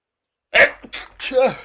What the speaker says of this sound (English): Here's that sneeze. It's coming now.